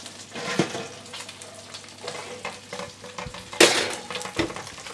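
Sea bream fillet searing in a hot frying pan, a soft steady sizzle with occasional sharp crackles and a few pan and utensil clinks, heard close up with no talking.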